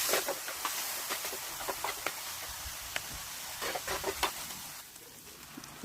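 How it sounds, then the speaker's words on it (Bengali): Spice paste being sautéed in a pan for kudli curry, a continuous hissing sizzle close by with scattered clicks and scrapes of stirring. "পুরো মশলাটা দেওয়ার পরে সুন্দর করে একটু কষিয়ে নিয়ে"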